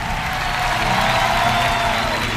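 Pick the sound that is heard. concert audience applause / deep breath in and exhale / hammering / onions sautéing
concert audience applause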